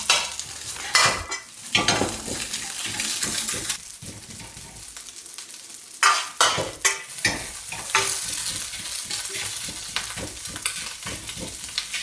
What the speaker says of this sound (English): After stir-frying for 1 or 2 minutes, the rice should be separated into distinct grains